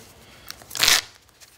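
A Magic: The Gathering deck being shuffled by hand, one short riffling burst of card flutter, close and fairly loud, with no talk.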